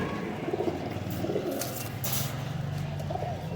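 Breeding pairs of pigeons, including a Ferozpuri pair, coo in low repeated rumbling calls amid a busy background of other birds' chirps and murmurs, close and continuous without talk.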